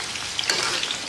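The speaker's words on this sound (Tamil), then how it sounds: "கொஞ்சமாக சிக்கன் எடுத்துகிட்டு அப்படியே உதிராக நம்ம போட்டோம்னா நல்லா பொரிஞ்சு வரும்" Chicken pakoda pieces frying in hot oil over a medium flame, giving a steady, close, bright sizzle with crackling pops throughout.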